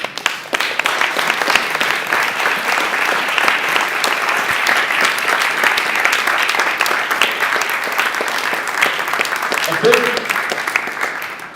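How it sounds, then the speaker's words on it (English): A long round of applause from the audience at the final presentations of a game jam weekend, steady and full throughout, thinning briefly near the end while a voice speaks over it. "Please give yourselves a round of applause"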